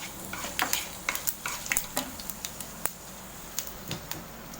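Mustard seeds, urad dal and dried red chillies sizzle in a little hot oil, with scattered pops and crackles and the light scrape of a spoon stirring, fairly quiet and close with no talking.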